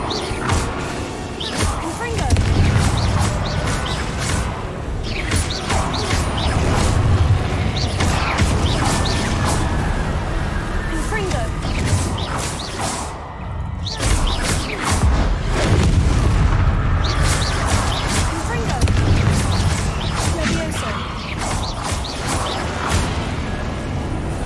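Repeated fiery blasts from the Confringo explosion spell in Hogwarts Legacy, booming and crackling in loud bursts across the scene, with continuous game noise and occasional voices underneath.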